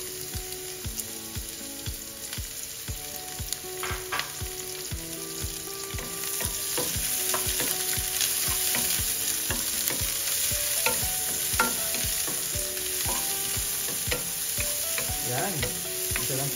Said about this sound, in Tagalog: Lagyan natin igisa natin yung ating aromatics. And start po natin yan sa ating sibuyas.